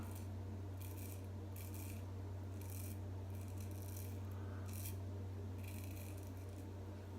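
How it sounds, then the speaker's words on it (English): A straight razor blade scrapes across hair in short, repeated rasping strokes, faint and close, with a steady low hum underneath and no speech. "I feel like maybe I'm going too flat and the whole blade is rubbing at some point."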